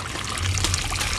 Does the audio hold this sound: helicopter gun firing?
no